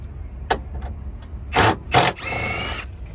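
A 14 mm socket wrench works on battery hardware in a Dodge Durango engine bay: a few sharp metallic ticks, then two loud ratcheting bursts and a steadier whirring rasp, close up with no talking.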